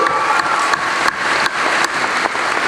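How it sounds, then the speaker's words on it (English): A convention Q&A audience applauds steadily, a dense close wash of clapping sustained throughout without pause. "Round of applause for the young gentleman."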